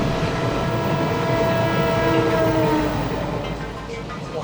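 The Maharajas' Express, a luxury passenger train in India, rumbles past loud and close with a continuous roar of wheels and carriages, while a sustained horn tone rises over the rolling noise.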